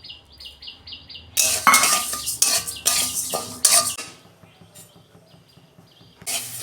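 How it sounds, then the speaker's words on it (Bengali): Moong dal dry-roasting in a kadai, heard as a run of loud metallic scrapes and clinks from a spoon stirring the pan, with quieter gaps between the bursts and beeping at the start. "কড়া বসিয়েছি, প্রথমে আমি ডালটা ভেজে নেব।"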